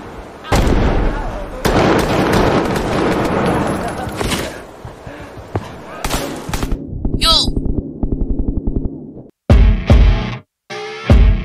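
Explosive blasts and gunfire from the Roblox shooter Deadline, with loud bursts and crackling in a dense opening stretch, later giving way to rapid shots and sharp near bangs separated by brief silences.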